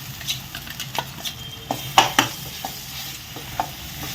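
Ginger paste and turmeric fry in a pan for chicken keema upma, giving a soft, steady sizzle broken by light spoon scrapes and a few clinks against the pan.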